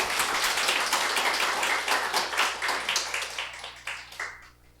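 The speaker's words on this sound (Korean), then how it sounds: "우리 하나님께 영광의 박수 올려드리겠습니다" A church congregation claps together in fairly close applause that gradually fades and thins out over a few seconds.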